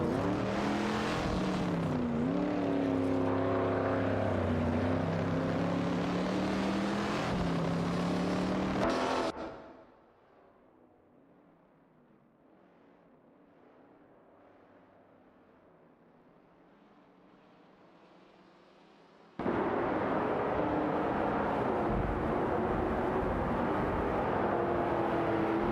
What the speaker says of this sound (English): with several cars jostling for position